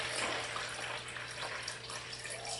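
Water poured steadily for crockpot soap making with turmeric and paprika, a continuous splashing rush running throughout at moderate level with no talk.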